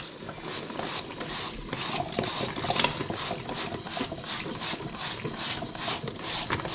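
Cold tap water runs steadily across the tread and outsole of a shoe being cleaned, making a constant, quiet hiss and patter with faint rattling throughout and nothing else heard.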